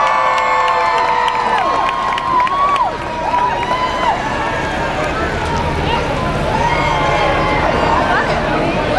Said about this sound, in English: Give my mother a round of applause